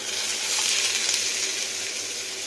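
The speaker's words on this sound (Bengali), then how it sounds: "এবার এখানে দিয়ে নিচ্ছি পেঁয়াজ কুচানো।" Chopped onion frying in a pan, a steady bright sizzle heard alone.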